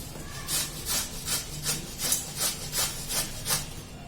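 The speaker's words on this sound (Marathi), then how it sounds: "आता ह्याच्याने किसून घेते आंबे अशा पद्धतीने" Raw mango being grated by hand for a jaggery mango relish makes about nine steady rasping strokes, each a bright scraping burst repeating roughly every half second. The strokes are close, moderately loud and alone, with no talking over them.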